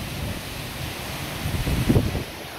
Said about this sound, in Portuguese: olha o vento aí, seu Burns